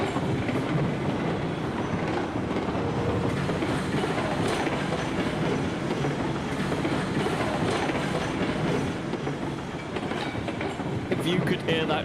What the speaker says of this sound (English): If you could hear that train as you went past my head.